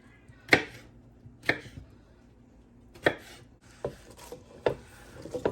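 A knife chops through a fresh tomato on a cutting board, a handful of crisp separate thuds at an uneven pace, close and fairly quiet with near silence between cuts.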